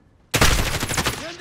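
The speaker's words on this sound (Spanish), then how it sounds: "¡Se han disparado!" Rapid automatic gunfire in Call of Duty Modern Warfare, a sudden close, loud burst of shots cracking in quick succession and fading over about a second.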